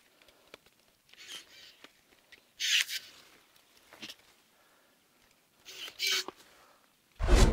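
Pruning shears snip pomegranate tree branches in a village garden, giving several short, sharp cuts spaced irregularly with rustling between them, close and moderately loud, with no talk.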